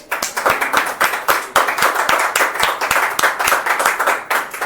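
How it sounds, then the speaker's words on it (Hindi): Audience applause for the mahaguru at a sharing gathering: dense, steady clapping from many hands, loud and close, carrying on without pause for the whole stretch. "हम चाहते हैं कि हमारे महागुरु जी की जोरदार तालियां हो जाए"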